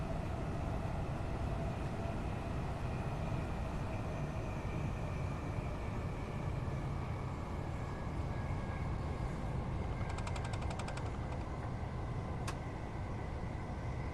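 A Class 377/387 Gatwick Express electric train running in Train Sim World 5, with a steady low rumble and drone of motors and wheels and a brief burst of clicking near the end.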